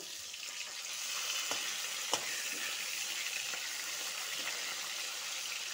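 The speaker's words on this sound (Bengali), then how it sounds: "লাল লাল করে সবগুলো মাছ ভেজে নিব।" Local rohu fish pieces frying in oil, a soft, steady crackling sizzle with a few sharp pops and clicks, heard alone at moderate distance.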